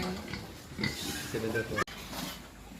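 A fattener pig oinks and grunts close by during weighing on a farm, its low grunts mixed under steady speech from a person nearby.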